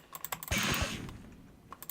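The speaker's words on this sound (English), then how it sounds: "Now I'm spam clicking too." A mouse is clicked fast and repeatedly during Minecraft play. The clicks are close, dry and rapid-fire, with one brief louder rush in the middle.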